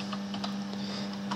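Brief, faint clicking of keys being typed on a computer keyboard, a few quick light taps over a steady low electrical hum.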